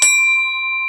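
Metal rings like a bell after being struck during a water pump replacement on a GMT800 Chevrolet Silverado/GMC Sierra, a single sharp strike with a pure, sustained tone that holds steady without fading.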